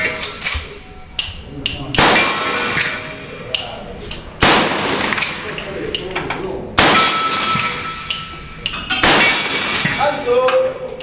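Guns are loaded at a shooting range, heard as a series of sharp metallic clangs, clacks and thuds from magazines and actions at irregular intervals, fairly close and loud.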